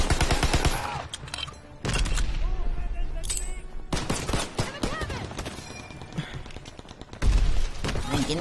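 Call of Duty WWII multiplayer gunfire with rapid, loud bursts of automatic shots and heavy blasts, nearly continuous across the stretch, with voices talking over the fighting.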